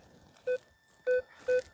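A metal detector gives three short, clear electronic beeps, one on its own and then two close together, over a low, quiet background.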